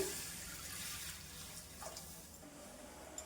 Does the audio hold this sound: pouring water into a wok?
yes